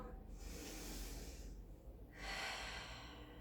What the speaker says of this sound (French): Prenez le temps de prendre des grandes inspires pendant les 20 secondes. Et d'expirer.